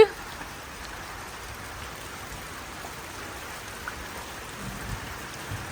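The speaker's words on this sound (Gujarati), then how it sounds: "ચાલો થોડીક વાર માણીએ વરસાદની મોજ" Soft, steady monsoon rain falls in a continuous hiss, fairly faint and even, with no voices.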